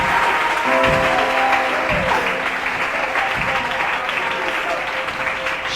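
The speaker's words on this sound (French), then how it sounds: "Acclamons le Seigneur pour sa vie." Congregation in a church applauding steadily throughout, a dense sustained clapping that fills the room, with faint voices and organ-like tones beneath.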